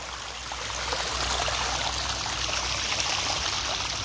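Spring water flows out of the ground in a steady, rushing stream. The babbling wash stays close and fairly loud throughout, with no voices over it.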